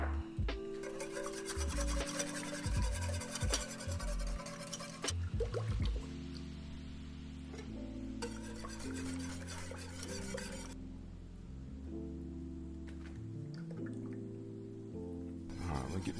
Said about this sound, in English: I'm going to get a whisk so that I can get those lumps out.